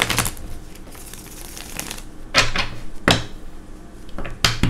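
Tarot cards being shuffled by hand in a quiet room, giving several short papery riffle bursts with brief pauses between them, moderately close.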